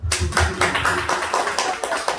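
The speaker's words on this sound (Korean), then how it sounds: "박수." A church congregation at a prayer meeting applauds: dense, brisk clapping from many hands, loud and close, with a rapid fluttering rhythm and no talk over it.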